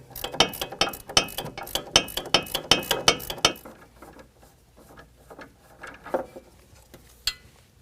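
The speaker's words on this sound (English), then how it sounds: "go ahead and remove the sway bar link." A ratchet removes the sway bar link bolt on a 2022 Ford Maverick, with a rapid run of close, crisp clicking strokes that slows into a few scattered clicks.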